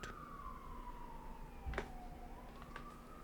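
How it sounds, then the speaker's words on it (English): A faint siren wails in the distance, its tone sliding slowly downward over a low steady rumble, with a brief thump partway through. "It's police sirens."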